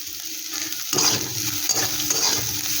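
Onions sizzle in a pan with salt while being stirred, a steady frying hiss broken by scraping strokes of the spoon against the pan, close and fairly loud.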